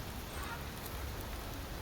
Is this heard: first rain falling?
yes